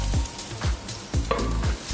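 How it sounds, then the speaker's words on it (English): Tomatoes fry in a covered pan, giving a loud, close sizzle with a regular pulse of low thuds and bubbling about every half second. "We're gonna pop these straight into the pan"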